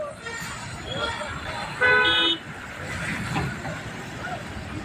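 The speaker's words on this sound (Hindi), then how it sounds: "ये भागलपुर की रोड है, बहुत ही व्यस्त रोड है।" Car horns toot over steady road noise on a busy road in Bhagalpur, with one loud sustained honk in the middle and softer horns around it, while a voice talks underneath.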